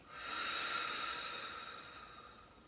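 One long, deep exhale during a relaxation class, an airy hiss that swells quickly, then slowly tapers over a couple of seconds, close and alone.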